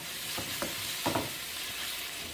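Carrots and tomatoes sauté in a pan for a chicken upma, a soft steady sizzle with a few quick spatula stirs and scrapes close by, no voices.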